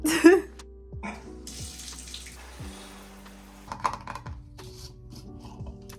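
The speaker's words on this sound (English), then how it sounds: "Now I'm gonna take a shower" Shower water runs in a home bathroom with a steady close hiss that swells and thins at times, broken by a few small clicks and knocks, with no talking.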